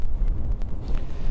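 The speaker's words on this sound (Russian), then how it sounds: "Вот ветер дует, вот это все трясется." Wind buffeting the microphone outdoors at a new residential construction site, a steady low rumbling gust that runs throughout the recording with no talk.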